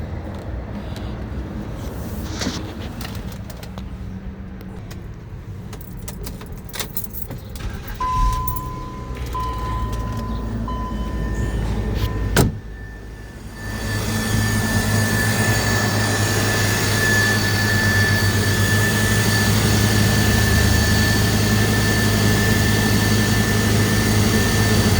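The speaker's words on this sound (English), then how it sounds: "let's start the car" A 3.0-litre BMW X5 E53 with its coil removed cranks and fires, settling into a loud, rough, shaking idle, with a whining tone after a sharp click and a steady engine rumble running to the end.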